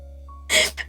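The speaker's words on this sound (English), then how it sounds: "I muted it and then I sneezed" A single short, sharp sneeze from a person sitting near a microphone indoors, with a faint steady hum and a thin tone in the background before it.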